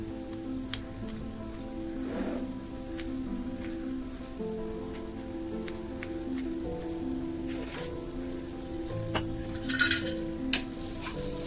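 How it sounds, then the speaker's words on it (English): Ginger garlic chili paste sizzles steadily in a pan for Mumbai street-style egg bhurji, with occasional stirring scrapes and a few sharper clatters near the end. "Till this ginger garlic chili paste get a little bit fry or a little bit cooked"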